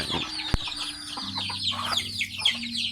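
Hens cluck and chatter in a steady, busy stream, several backyard birds close by with overlapping calls and a low background hum.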